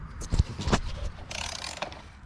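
A ratchet tightens the steering wheel bolts on a 2009 C6 Corvette, giving a few quick, close mechanical clicks over a short stretch.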